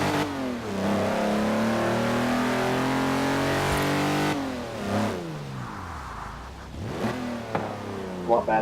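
KTM X-Bow GT4 engine in Forza Horizon 4 revving loudly and steadily with rising harmonic tones for about four seconds, then dropping and surging again through gear changes, with some speech mixed in.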